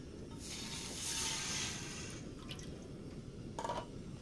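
Water is poured into a cup to make a pickling brine for sun-dried kamias, a soft splashing hiss that swells briefly and then trickles into faint drips, with a short splash near the end.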